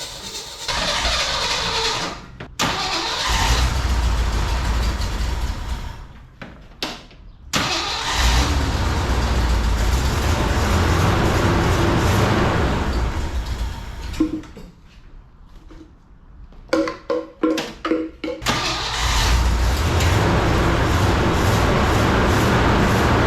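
A 1979 Jeep CJ-7 with a 304 V8 cranks and fires up close by, catching and running in rough bursts, cutting out between starts and stuttering through repeated cranking before settling into a loud, steady idle.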